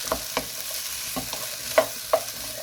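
Potatoes frying in a pan on low heat while being stirred, a constant sizzle under sharp clacks and scrapes of the spoon against the pan, close and fairly loud, with no voices.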